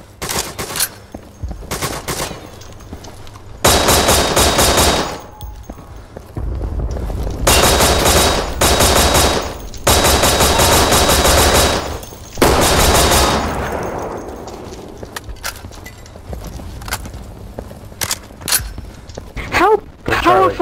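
Gunfire in the Day of Infamy World War II mod: loud bursts of machine-gun fire in several long volleys with scattered single shots between, and players talking over the fighting.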